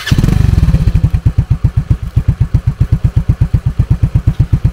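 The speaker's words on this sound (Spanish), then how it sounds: "Vamos a encender entonces la motocicleta." An AT110LT motorcycle engine cranks and catches with a quick burst, then settles into a steady, loud, close idle with an even, rapid thumping beat.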